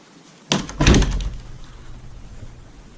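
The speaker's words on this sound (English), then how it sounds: "Here's the closet, double doors, open up to, kind of your standard double door width closet." A pair of standard-width closet double doors in a house swings open with a sharp knock followed by a heavier thud, close by, then fades into quiet room tone.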